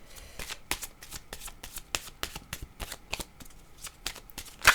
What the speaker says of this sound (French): Ça me fait mal quand je mélange mes cartes.